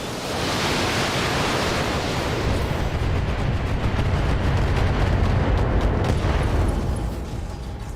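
An 80-LRM missile salvo fires in the BattleTech video game, a dense, loud roaring rush of launches and blasts sustained for several seconds before tapering off.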